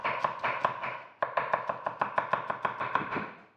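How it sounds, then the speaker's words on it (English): A knife chops food into slices on a cutting board with a quick series of sharp, close taps, a few spaced strokes and then a faster, even run, with no talking. "chop it into nice slices like so."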